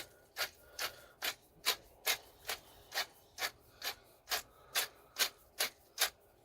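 Black pepper is ground in a hand mill with about fifteen evenly spaced, raspy twists, each a short scratchy crunch, close and quiet with nothing else heard.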